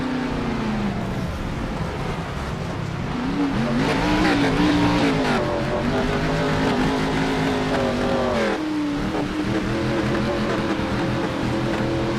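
A race car leaves its pit stop at Myrtle Beach Speedway during an amateur racing-league event. The engine revs and accelerates with a strong rising drone, shifting pitch as it pulls away amid steady track noise.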